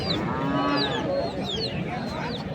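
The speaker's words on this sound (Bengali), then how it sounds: "এই যে এখানে বাধা রয়েছে গরুগুলো" Cattle, Haryana-breed bullocks and bulls, moo in a long, deep drawn-out call, with chirping birds and a noisy background around them.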